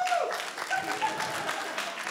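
An audience at a stand-up comedy show at the Just for Laughs festival claps and cheers in a short, dense burst of applause, with a few faint whoops mixed in.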